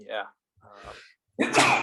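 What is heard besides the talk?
sneeze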